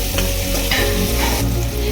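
Onions and tomato frying in a pan with ginger garlic paste, a steady loud sizzle broken by the scrape of repeated stirring, close up and with no voice.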